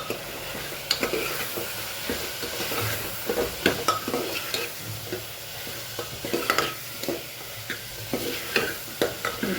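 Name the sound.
stirring masala frying in a pan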